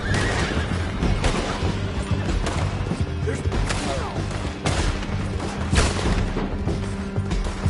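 Horses gallop in a chaotic Red Dead Redemption 2 chase, with dense hoofbeats, whinnies, and bursts of gunfire and crashes layered under continuous loud action noise.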